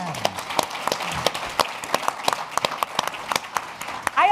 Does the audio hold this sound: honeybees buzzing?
no